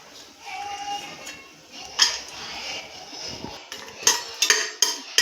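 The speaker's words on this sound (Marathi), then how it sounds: "तूप गरम झाल्यावर हे जे ड्रायफ्रूट आहेत हे टाकणार आहेत." Almonds dropped into hot ghee and stirred in a metal pan for carrot halwa, with a soft sizzle under sharp clinks and scrapes of a spoon against the pan, several in quick succession toward the end.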